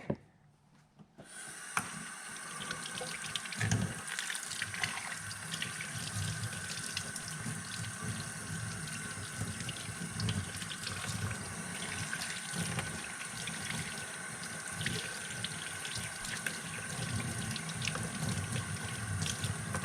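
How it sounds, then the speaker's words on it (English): A sink tap runs water continuously while a Stihl MS260 or MS170 chainsaw part is washed, starting after a brief quiet moment and then a steady close splashing flow with occasional sloshes, no talking. "I'm gonna wash this in the sink."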